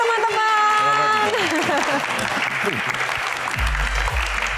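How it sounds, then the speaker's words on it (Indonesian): An audience at an evening Q&A show claps warmly for a guest in a steady wash of applause, while music plays at the start and a voice speaks over the clapping. "Tepuk tangan yang paling meriah untuk bintang tamu kita pada malam hari ini."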